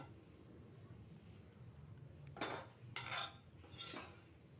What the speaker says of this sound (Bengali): এর মধ্যে দিয়ে ওলট পালট করে মিশিয়ে নেব